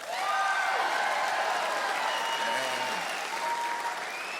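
Dense, steady audience applause fills a comedy club crowd, loud and continuous throughout with some whoops and cheering mixed in.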